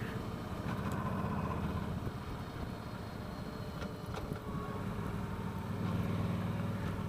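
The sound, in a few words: 2015 Star V Star 1300 Deluxe motorcycle engine braking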